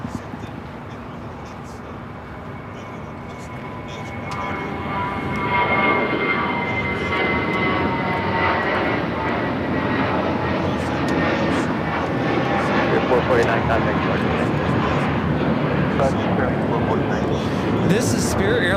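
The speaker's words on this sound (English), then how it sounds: "This is Spirit Airlines 449 taking off to Atlanta on the A320" A Spirit Airlines Airbus A320 taking off from LAX, jet roar swelling after a few seconds into a loud sustained rumble with tonal engine whine, with voices talking over it.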